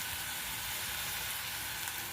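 Fenugreek leaves and crushed green chillies sautéing in a pan of oil, a soft continuous hiss and sizzle, fairly quiet and steady, with no talking.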